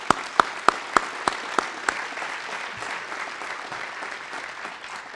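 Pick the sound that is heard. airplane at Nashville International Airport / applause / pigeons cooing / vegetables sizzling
applause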